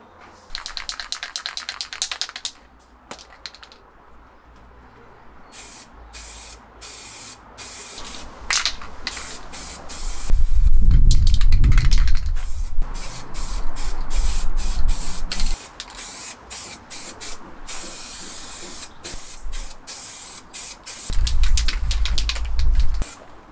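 Bursts of aerosol etch primer sprayed onto an MG TF subframe, a close hissing spray in repeated short and longer passes with brief pauses, some quieter rubbing and knocking between them.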